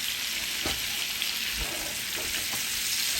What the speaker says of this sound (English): Tilt this aside, and you just baste it. Baste it with that